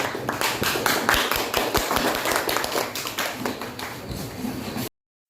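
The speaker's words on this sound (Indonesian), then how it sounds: "kita beri tepuk tangan kepada kelompok 3 untuk tampil" A classroom of students applauds a presenting group, a sustained round of many hands clapping close by with sharp individual claps, then cutting off abruptly into silence.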